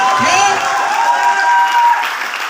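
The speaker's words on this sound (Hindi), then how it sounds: "ये वाली कम है, ये वाली ताली कम है।" An audience at a motivational business talk gives loud, sustained applause with cheering and whistle-like whoops riding on top, a dense, continuous roar of clapping that holds steady for the full length.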